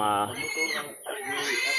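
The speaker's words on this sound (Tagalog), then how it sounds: "sumisigaw po yung baboy dahil nilagay po namin siya sa sako" A pig inside a sack squeals loudly and harshly up close in two long, shrill cries with a brief dip between them.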